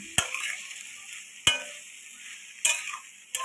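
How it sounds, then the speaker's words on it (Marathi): Soaked poha topped with coriander being stirred in a pan: three or four sharp spoon clinks against the metal, spaced about a second apart over a faint background hiss, close and with no voices. "आता हलवून घेऊया"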